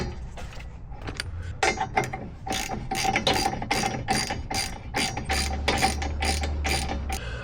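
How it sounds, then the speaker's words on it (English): A hand ratchet drives the top bolt during a BDS 3-inch lift and leveling kit install on a 2024 Ford F-250 Super Duty, with a long run of quick, close metallic clicks in steady strokes. "I'm gonna get the top bolt all the way through."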